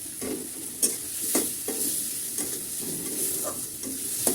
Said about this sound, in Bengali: একে একে দিয়ে দেবো মরিচ গুঁড়ো আর হলুদ গুঁড়ো। এটাকে একটু কষে নেব।